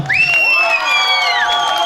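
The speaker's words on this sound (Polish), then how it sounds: "Dajcie jeszcze większe brawa." Concert crowd at a live show cheering loudly, with sustained high whoops and shouts that rise and hold, dense and close, with little distinct clapping.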